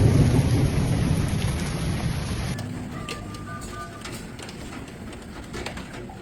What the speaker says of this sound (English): the first active thunderstorms erupted, causing local flooding and water accumulation